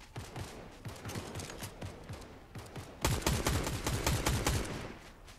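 Rapid automatic gunfire in Fortnite aimed at a bridge, a dense volley of shots that steps up and gets louder halfway through, continuing without a break.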